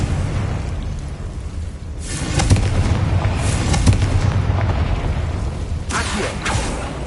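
A Confringo blast spell cast in a wizard video game, crackling explosions bursting repeatedly in loud rolling waves over about seven seconds, with no voices.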